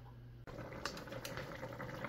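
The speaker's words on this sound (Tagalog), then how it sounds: "at kumukulo na yung kanyang sinabawan" Broth simmering in a pot, its bubbling a soft continuous hiss with a few faint pops over a low hum, heard without any talking.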